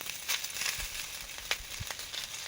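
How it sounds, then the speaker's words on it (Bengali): Helencha (hinche) greens fry in a pan with a quiet, steady sizzle and crackle, broken by a few soft taps and stirs. "প্রথমে হিংচেটা ভেজে নিচ্ছি"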